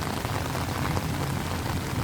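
Steady rain falls and patters on surfaces along an outdoor rail corridor, a dense, even hiss with no pauses from start to finish.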